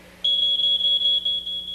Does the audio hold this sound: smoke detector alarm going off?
yes